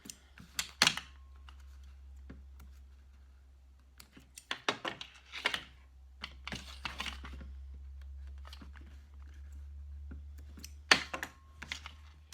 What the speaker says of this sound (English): Trim my threads.